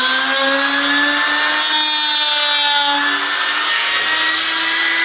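Router (tupia) cutting a groove into an MDF board, a loud continuous high-pitched whine with a steady grinding cut and slight shifts in pitch, up close.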